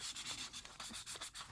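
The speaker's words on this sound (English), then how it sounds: "Right now, I'm just going to use the 400 grit sanding paper to clean up" Sandpaper of 400 grit rubs back and forth across the leg of a 1/48 MegaScale Zaku II model kit, a close, soft, rhythmic scratching with about a dozen quick strokes.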